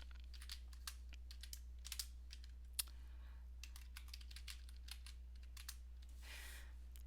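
Quiet keystrokes on a computer keyboard come in irregular runs of light clicks, with a short pause and one sharper tap, over a steady low hum.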